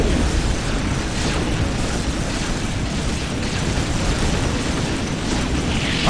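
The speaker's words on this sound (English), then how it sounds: "Let the grenades fly!" Grenade explosions in the strategy game Warhammer 40,000: Dawn of War, a dense, continuous barrage of booming blasts and rumble that stays loud and fairly even throughout, with no speech.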